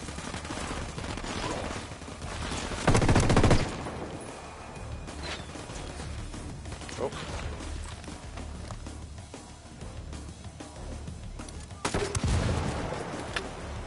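Gunfire in a video game battle on Barchevos, with bursts of shots, rapid fire and heavier volleys, one loud cluster near three seconds and another near twelve, over a steady noisy combat background.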